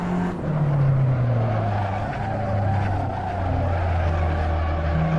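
A car in the racing game Assetto Corsa skids through a turn while still braking, its tires squealing in a loud, sustained, falling tone over a steady engine drone.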